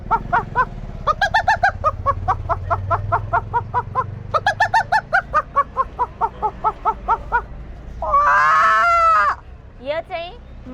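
A human voice imitates a small chicken, producing quick runs of rhythmic clucking chirps, then a longer squawking call and a few short trailing notes, all close and clear.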